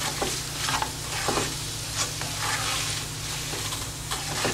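Soya chunk Manchurian sizzles steadily in a hot pan while a spoon stirs and scrapes through it in repeated strokes, close and moderately loud, with no talking.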